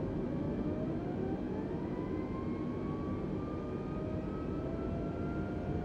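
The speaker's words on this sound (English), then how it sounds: "The airplane is trying to align with the runway." Steady airplane engine drone in Microsoft Flight Simulator 2020 on approach to a runway, a continuous broadband roar with a faint rising tonal whine, even and unbroken, with no voices.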